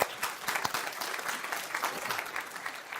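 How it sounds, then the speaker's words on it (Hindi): An audience at a talk held at India's National Academy of Indian Railways claps steadily throughout, a dense, even patter of many hands with no voices on top. "उनके लिए ताली बजाओ"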